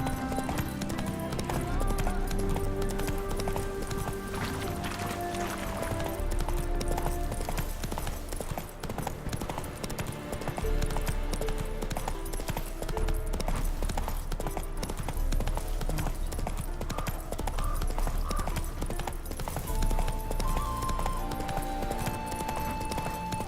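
Rapid clip-clop of a horse's hooves galloping in The Witcher 3, a steady loud drumming rhythm that runs throughout over a bed of game music, with occasional speech and a brief whinny.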